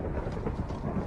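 Low, rolling thunder rumble from a lightning strike in Minecraft, steady and fairly loud with no voices.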